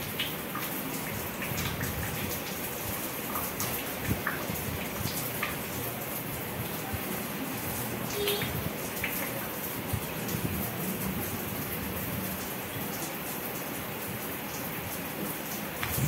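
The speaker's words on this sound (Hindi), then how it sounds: "1 घंटे के बाद गाइज मैं सिर धो रही हूँ अपना।" Water pours and splashes steadily as hair is rinsed after an onion juice treatment, a continuous rain-like spatter at even loudness with no voices.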